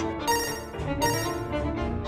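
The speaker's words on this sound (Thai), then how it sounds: "สายโทรศัพท์เข้าสายสำคัญซะด้วย" A cartoon telephone rings in repeated electronic bursts, about two rings close together, loud and bright with no talking over them.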